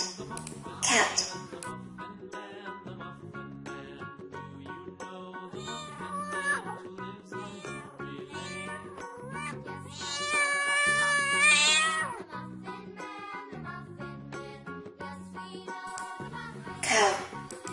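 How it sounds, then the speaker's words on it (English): A cat meows over a backdrop of children's music, with one or two clear meow calls standing out near the start and again near the end among melodic tones. "Cat, cat."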